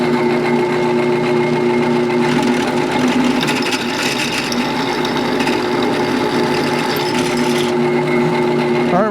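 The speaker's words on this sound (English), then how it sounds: "we're using a 7/16 inch drill bit to drill these holes out" A drill bores holes using a 7/16 inch bit, a steady close mechanical whine and grinding that continues for several seconds without pause.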